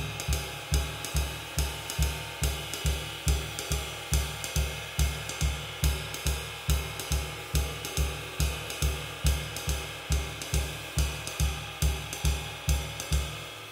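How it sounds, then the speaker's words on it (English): A softly feathered bass drum pulses steadily beneath a continuously washing ride cymbal, its low thumps kept small and even in a repeating jazz time pattern throughout, with no talking. "the next part of the process is to make the stroke of the bass drum smaller so"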